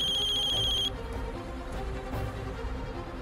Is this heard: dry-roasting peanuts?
no